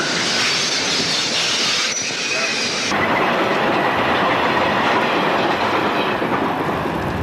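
An eastbound Erie Lackawanna train rumbles past at close range with continuous dense wheel noise and clickety-clack over the rails, a faint squeal in the first seconds before the sound shifts and keeps rolling.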